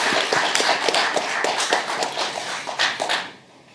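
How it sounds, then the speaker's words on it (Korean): An audience at a lecture event applauds for a guest lawyer, many hands clapping in a dense, steady patter that fades out near the end. "예, 박수를 보내주십시오."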